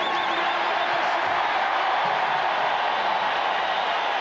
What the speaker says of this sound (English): This crowd very much into it.